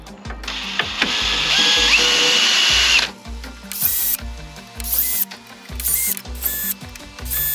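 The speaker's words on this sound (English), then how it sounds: "let's drill some holes" A power drill drilling holes whirs loudly in one long burst, then in several short, choppy bursts as it bites in, with clicks and knocks between runs.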